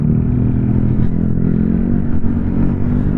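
A Yamaha TW200 motorcycle engine running, recorded on an action camera with wind reduction, heard as a steady low rumble under heavy wind buffeting that masks most engine detail.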